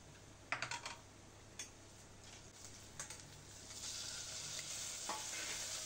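Ginger garlic paste frying in a pan, a steady quiet sizzle that grows denser and louder toward the end, broken early on by a few light clicks of a spatula against the pan, close and without speech.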